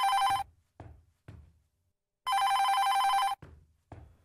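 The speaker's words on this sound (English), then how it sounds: "Pick up the phone, someone's calling." Electronic phone ring in the horror chat game Don't Chat With Strangers, two loud sustained rings separated by a gap, each followed by echoing knock-like thuds.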